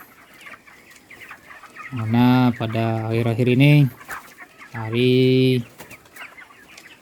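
Thirty-day-old broiler chickens cluck softly in an open raised coop, a low background of bird sounds beneath someone speaking in two loud stretches.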